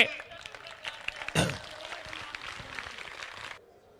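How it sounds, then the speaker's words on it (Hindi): Crowd at an outdoor political rally applauds to welcome a speaker, steady scattered clapping sustained for several seconds with one louder thump, then cutting off abruptly. "एक बार सभी तालियों के साथ स्वागत करेंगे"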